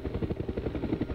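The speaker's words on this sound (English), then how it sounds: "Helicopter." A helicopter in the Resident Evil: Survivor video game gives off a steady, loud rotor throb, a low rhythmic chopping that runs through the whole moment with no voices over it.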